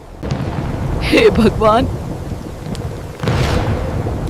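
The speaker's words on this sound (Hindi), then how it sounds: "अचानक आसमान में काले बादल छा जाते हैं, बिजली कड़कती है और मूसलाधार बारिश शुरू हो जाती है।" Cartoon thunderstorm with steady heavy rain hissing throughout and a thunder rumble, swelling again near the end, while a voice briefly exclaims over the downpour.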